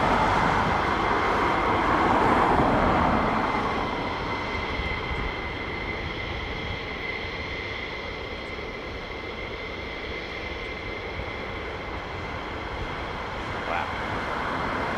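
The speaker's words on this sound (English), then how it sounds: "It's a good old lick of jets going out there." Military jets leave an air base near Darlington with a C-17 among them, making a continuous, far-off roar that swells slightly at first and then holds steady, with no one speaking over it.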